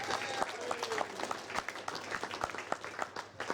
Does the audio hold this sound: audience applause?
yes